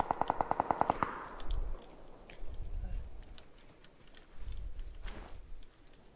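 Rapid automatic gunfire in PUBG rattles off in a tight burst of about ten shots, then a few heavy muffled thumps and distant cracks echo afterward across the open map.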